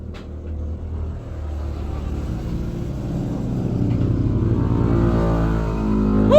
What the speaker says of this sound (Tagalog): Ay, kalangas sa mga motor anak oy.